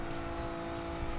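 A Ferrari Dino engine in the video game Forza Horizon 3 drones at a steady high pitch, holding constant revs with a dense, continuous roar and no talking.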